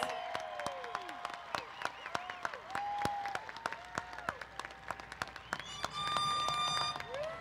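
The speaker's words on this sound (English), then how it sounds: "Let's give them a round of applause." Applause at a college commencement ceremony, a crowd clapping with sharp individual claps standing out over a moderate, somewhat distant wash, with some cheering and a tonal sound near the end.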